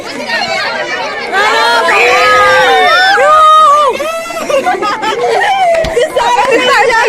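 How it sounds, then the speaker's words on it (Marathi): Large crowd waiting in line at a horror show, many voices chattering and babbling at once, with some clearer nearby voices speaking over the hubbub. "गर्दी बघा माझ्या मागे केवढी मोठी गर्दी आहे लाईन"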